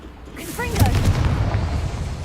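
A Confringo blasting spell in Hogwarts Legacy bursts into a loud, rumbling explosion that swells quickly and rolls on to the end, with a brief spoken voice near its start.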